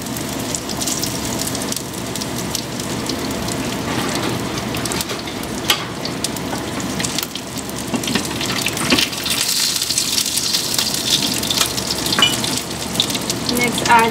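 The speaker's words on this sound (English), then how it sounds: "piece of ginger, and your whole garlic cloves. And let this roast for about 1 minute." Cumin seeds, a piece of ginger and whole garlic cloves roast in a hot pan, giving a steady close sizzle and crackle with occasional stirring scrapes, continuous throughout.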